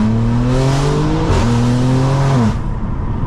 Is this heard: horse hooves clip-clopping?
no